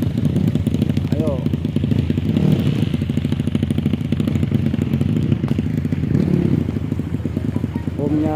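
A motorcycle engine labours steadily up a muddy uphill trail on a Toraja track, a dense, continuous rumble with rhythmic clatter that stays loud and near throughout, with brief voices calling in the background.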